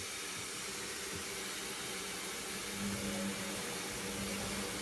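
A Servis 6800G washing machine running its first rinse on a wool 40 programme gives a steady broadband whoosh of water and motor, with a low hum that swells slightly midway, continuous and fairly close.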